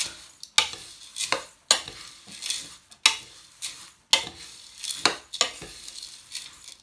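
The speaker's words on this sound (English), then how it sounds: "So I'm going to stir it all up." Granola with coconut flakes being stirred in a bowl, a series of loud, close, rhythmic rustling scrapes about once per second, each stroke rising and fading, with no voices.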